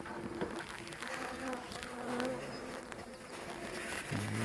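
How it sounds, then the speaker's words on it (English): Honeybees are shaken into a hive, giving a close, dense buzzing hum with scattered louder bursts and light knocks as the swarm settles. No one speaks. "what I'm going to do is just shake these bees in."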